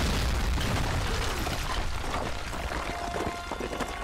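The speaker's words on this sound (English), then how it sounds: "Slow motion, giant explosion." A sustained, loud video-game explosion roar in Tomb Raider Definitive Edition, with crackling bursts and rumbling debris, continuous and dense for several seconds with no voices.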